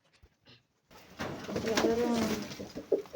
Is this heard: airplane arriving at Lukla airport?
no